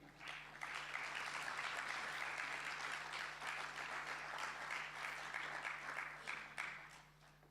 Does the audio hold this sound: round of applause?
yes